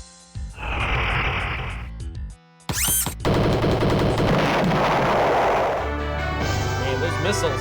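Missiles launch in the Star Control 3 space game, a loud rush of rapid blasts and whooshing bursts packed with electronic tones and a sustained roar, all set against game music.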